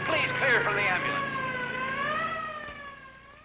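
A wailing ambulance siren sweeps up and down at a race track after a crash, loud and close, its pitch gliding steadily as it fades slightly toward the end.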